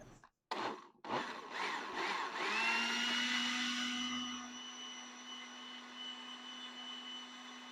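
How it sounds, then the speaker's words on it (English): A blender pulses peaches and habanero chunks, starting with a few short bursts of grinding before settling into a sustained whirring motor whine that slowly winds down. "But we're going to get them in the blender here."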